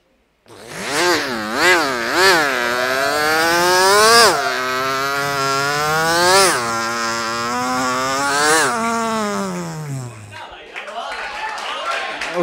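A voice imitates a Yamaha R15 motorbike at an open mic show: loud, close engine-like drones with repeated rising and falling revs, holding steady before a final downward slide. Brief crowd noise follows.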